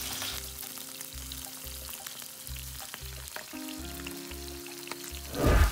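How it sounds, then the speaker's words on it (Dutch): Steady frying sizzle of salmon cooking skin side down in a pan, with a low rhythmic pulsing underneath and a brief louder burst at the end. "Die vis eerst op de huidkant 2 minuten bakken."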